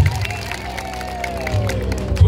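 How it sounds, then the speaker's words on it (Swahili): A crowd at a political rally in Kigoma vijijini, Tanzania, giving a short burst of applause and cheering, moderately loud and somewhat distant, with a voice nearby. "Jipigie ni makofi watu wa Kigoma vijijini"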